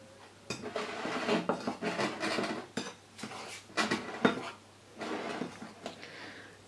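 Cornstarch, vanilla sugar and baking powder are stirred together in a bowl for a sponge cake, a spoon or whisk scraping and clinking against the sides in steady, close, uneven strokes.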